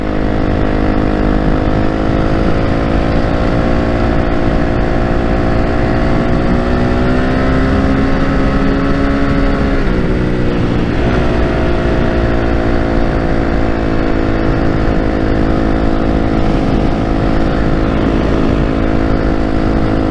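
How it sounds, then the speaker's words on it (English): A motorcycle engine runs steadily while being ridden, a loud, constant drone close to the rider, with the pitch easing down and climbing again about midway. "I'm just an old guy riding his motorcycle"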